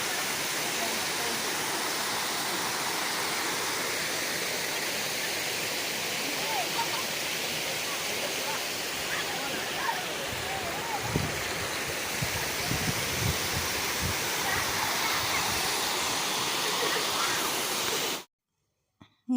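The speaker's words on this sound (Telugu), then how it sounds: "ఈ వాటర్ ఫాల్స్ ఇంకా కొంచెం కిందికి పోతే అక్కడ చాలా కిందికైతే దూకుతున్నాయి నీళ్ళు" Chelimi Chenu waterfall roaring steadily with loud, broadband rushing water up close, a few low thumps partway through, cutting off abruptly near the end.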